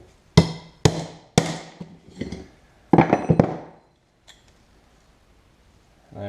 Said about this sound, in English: Just get in there and try and hammer it out from the inside.